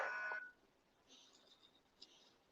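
A phone chimes a brief text-message alert, a short bright electronic tone at the very start, followed by a few faint higher blips over quiet room background.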